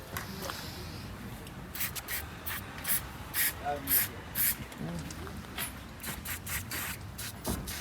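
Several short hissing bursts of degreaser spray on a bicycle come in quick succession, close by, with faint rubbing and handling noise between them.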